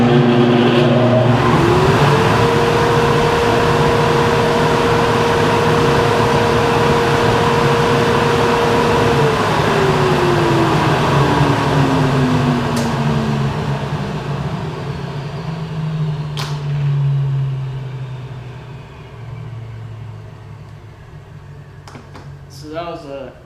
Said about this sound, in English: I've run this motor a couple times and it can get loud.